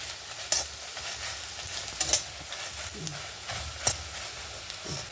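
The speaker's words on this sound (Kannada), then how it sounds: "ಮಸಾಲೆ ಎಲ್ಲ ಹುರಿತದೆ ಆಗ ಕೊತ್ತಂಬರಿ ಹಾಕೊಂಬ" Masala spices with coriander seeds frying in a pan for a village-style salted jackfruit bulb curry, a steady soft sizzle with occasional stirring scrapes and clicks, close and alone without talk.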